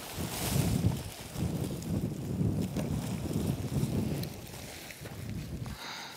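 Gusty wind blows outdoors while a backpacking tent is pitched, a low steady rumble buffeting the microphone with uneven surges throughout.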